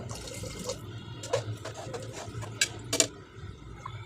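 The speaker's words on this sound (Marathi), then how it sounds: "पाणी टाकून घेऊ।" Water is poured into a cooking pot of khichdi after rice and spices are sautéed, a soft liquid trickle with a few splashy pours and clinks over a low background hum.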